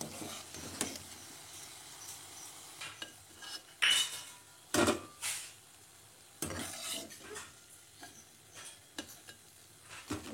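Fried bajji are lifted out of hot oil into a serving bowl, with soft sizzling under sharp metal utensil clinks and scrapes against the pan and bowl. The clinks come in irregular bursts, close by.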